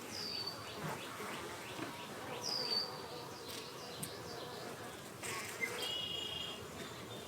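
A dense swarm of honey bees buzzes steadily all around, a continuous droning hum with a few faint bird chirps in the background.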